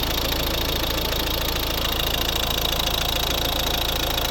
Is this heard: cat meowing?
no